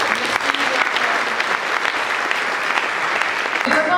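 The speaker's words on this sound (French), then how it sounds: "Vous pouvez l'applaudir bien fort." Sustained applause from an audience at an eco-construction event in Brittany, steady dense clapping filling the room for several seconds, fairly loud and close.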